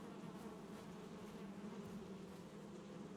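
Steady, dense buzzing of bees swarming around beehives in the Valheim video game, a continuous hum at low level with no talk over it.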